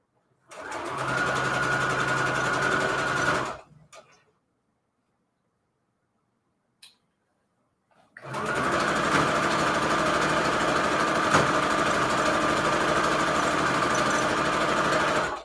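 A sewing machine runs steadily in two long bursts of rapid stitching, separated by a few seconds of near silence with a brief click.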